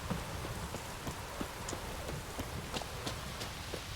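Steady rain hisses in The Witcher 3: Wild Hunt, with scattered drop ticks and faint hoof-like clops over a soft, even wash of falling water.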